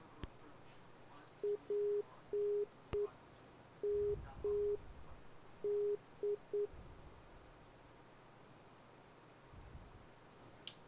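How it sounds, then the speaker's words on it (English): The Morse code identifier of the Palmdale VOR beeps as steady mid-pitched tones in a dash-dot pattern over faint radio hiss inside the X-Plane flight simulator, with a few clicks around it. "we can hear the Morse code of the Palmdale VOR"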